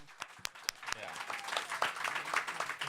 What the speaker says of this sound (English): How about some applause for that